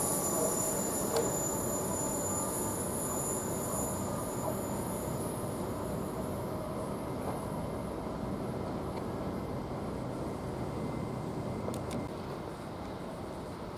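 A Newcastle-bound train from London King's Cross pulls out of Durham station, a steady rolling rumble of wagons and wheels lasting throughout, with faint squeals and a sustained high whine, no voices.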